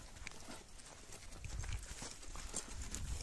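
Horse hooves clip-clopping on ground at vaquejada training in a park, a faint, steady rhythmic patter of steps at a distance amid low outdoor background noise.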